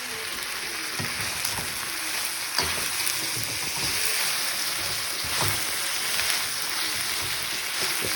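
Orange chicken sauce sizzling steadily in a hot pan as it reduces and thickens during stir frying, a continuous bright hiss with occasional soft pops and stirring clicks.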